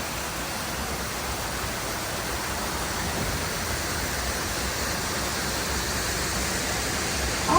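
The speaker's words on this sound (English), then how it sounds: "I guess that's why we've got 3 waterfalls." Rushing water from three waterfalls pours steadily into a river as a dense, continuous hiss that holds an even level throughout with no voices.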